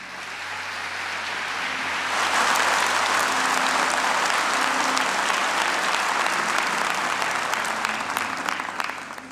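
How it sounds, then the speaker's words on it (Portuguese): A church congregation at a Catholic service applauds steadily for about nine seconds, a dense, sustained clapping that swells early and holds loud, filling the space without any talk. "Isso, pode aplaudir."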